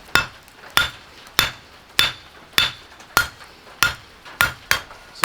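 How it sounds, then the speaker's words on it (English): Hammer blows on hot steel while forging a knife with only hand tools, nine sharp ringing strikes at an even, steady rhythm, each decaying quickly, close and loud with no talking. "that like whipping action, gives you substantially more force when you're hammering it"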